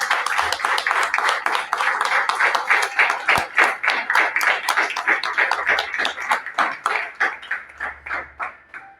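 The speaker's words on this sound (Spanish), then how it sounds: "Dale un fuerte aplauso." Rhythmic hand clapping from a church congregation, steady repeated claps sustained throughout, fairly loud and close with a slight thinning toward the end.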